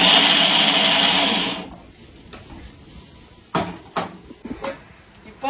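A mixer grinder whirs loudly for about a second and a half while grinding coconut pieces for a pesarattu dosa batter, then stops, leaving a few sharp knocks and clatters of kitchen handling in a quiet room.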